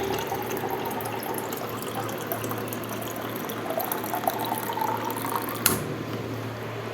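A bottle being filled with water at home, a steady continuous rush of pouring water that holds throughout, with a sharp click near the end.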